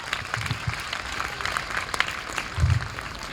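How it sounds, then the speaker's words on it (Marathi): Audience at a school Women's Day celebration clapping for a speech, a fairly quiet, moderate spatter of many hands with a brief louder burst near the end, heard from some distance. "टाळ्या झाल्याच पाहिजे."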